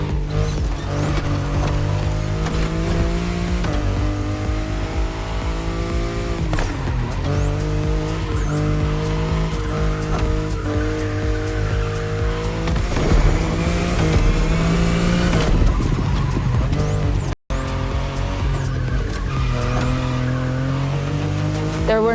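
A BMW i8 hybrid sports car races in The Crew Motorfest, its engine revving loudly and climbing through repeated gear shifts, with tires squealing and a brief dropout near the end.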